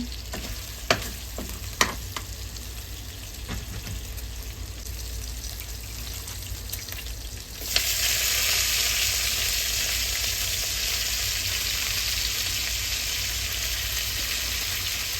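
Pork fries in oil in a wok for cabbage stir-fry, starting with a quiet background and a few clinks, then breaking into a loud, steady sizzle that holds to the end.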